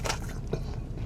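Biting into crunchy, crispy fried chicken tenders, with a sharp crunch at the start followed by softer crackling chews, close to the mouth and without talk.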